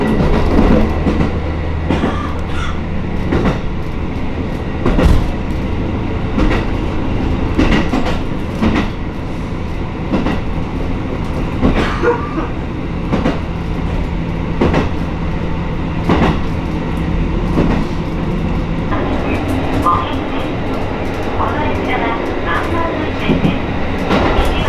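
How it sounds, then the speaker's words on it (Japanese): A Hokkaido passenger train running along the shore of Hakodate Bay, heard from inside as a steady loud rumble with rhythmic clickety-clack of wheels over rail joints and occasional squeals throughout. "海沿いに列車は進んでいきます。"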